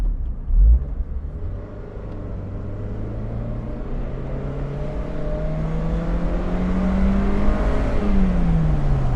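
A 2003 Toyota MR2 Spyder TRD with a 5-speed manual, heard from inside the convertible as its engine revs steadily higher. A rising drone climbs toward about 6,500 rpm, smooth and continuous, with a brief thump near the start.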